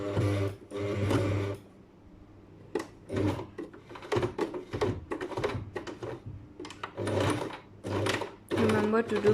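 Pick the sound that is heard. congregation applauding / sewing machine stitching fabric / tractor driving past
sewing machine stitching fabric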